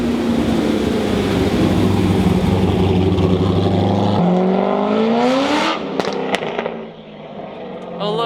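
A Chevy Sonic Turbo revs and accelerates away, a loud engine drone that climbs in pitch and fades into the distance, with sharp cracks and pops near the end.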